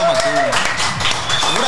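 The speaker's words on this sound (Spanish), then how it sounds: "Un aplauso para el compa Tony Aguirre." A brief burst of clapping for a guest on a Spanish-language podcast, mixed with loud voices and cheering over it.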